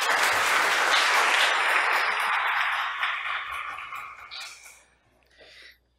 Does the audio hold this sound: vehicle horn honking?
no